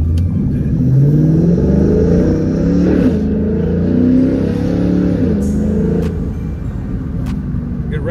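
A 2011 Ford Mustang GT V8 revs and pulls through the gears, its low engine rumble rising and falling steadily and close by for the whole stretch, with occasional brief knocks from the shift.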